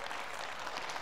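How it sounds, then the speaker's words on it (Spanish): A church congregation applauds together during a sermon, a dense, even clapping heard from a distance at low volume. "Eso merece un aplauso para Cristo,"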